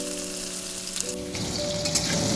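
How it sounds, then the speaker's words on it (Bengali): Potatoes frying in mustard oil in a wok, a continuous dense sizzle like light rain with low tonal hum underneath that fades, and no talk. "কড়াটা ধুয়ে ওই কড়ায় আমি সর্ষের তেল দিয়ে দিলাম, আলুগুলো ভেজে নিচ্ছি।"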